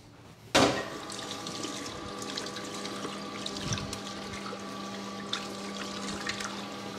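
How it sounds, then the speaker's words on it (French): Running tap water pours steadily into a kitchen sink as a knife is rinsed, starting abruptly and flowing continuously up close with small clinks and splashes, no talking. "Je vais rincer mon couteau."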